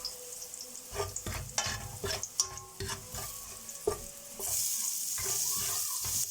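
Green peppers hit a pan of garlic already frying golden, giving a close sizzle with repeated stirring clatters, then a steadier, louder hiss toward the end.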